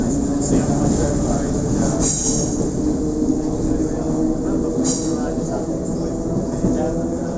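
A Sydney train or tram rumbles steadily through a tunnel beneath Cleveland Street, with constant loud rolling noise and faint wheel squeals throughout, while voices murmur underneath.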